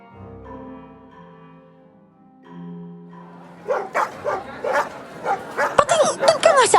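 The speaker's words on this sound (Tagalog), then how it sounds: "Pero agresibo din kasi ang tahol" A dog barks aggressively in a rapid, loud run of sharp barks and yips, coming after a quieter stretch of tonal background sound.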